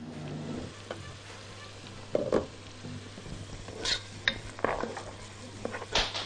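Meat and onions sizzle softly in a pot for an Egyptian-style Libyan soup, a faint steady hiss broken by scattered clinks and scrapes of a spoon against the pot.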